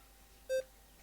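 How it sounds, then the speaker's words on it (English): A single short electronic beep from a supermarket checkout register in Farming and Supermarket Simulator, clean and moderately loud over quiet background. "The cash register is going."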